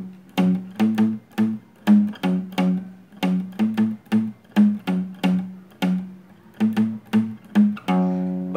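Easy version of a song strummed on guitar, with steady down-up chord strokes in a regular rhythm, close and clear, ending on a ringing chord.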